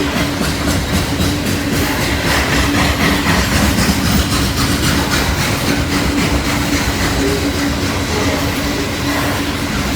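A loaded coal train headed for a steel mill passes close by, a loud continuous roar of heavy freight cars with rhythmic wheel clatter and a low engine drone.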